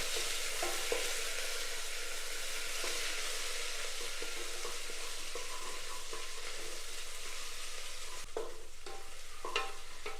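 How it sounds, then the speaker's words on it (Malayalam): Ginger garlic paste frying in oil in a pressure cooker while being stirred, a continuous close sizzle with soft scraping, and a few sharper utensil knocks near the end. "നമുക്കതിലേക്ക് ഇഞ്ചി വെളുത്തുള്ളി പേസ്റ്റ് ചേർത്ത് കൊടുക്കാം അതിൻ്റെ പച്ചമണം മാറുന്നത് വരെ നമുക്കൊന്ന് ഇളക്കി കൊടുക്കാം"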